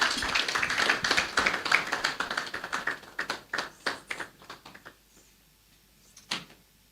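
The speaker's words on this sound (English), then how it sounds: "Let's welcome him with a round of applause." Scattered, sparse claps from a small audience greeting KPMG's country managing partner at a business outlook event, thinning out to a few isolated claps, then quiet with a last single clap.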